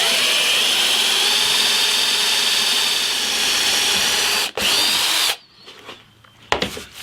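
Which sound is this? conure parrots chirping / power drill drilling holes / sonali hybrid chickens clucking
power drill drilling holes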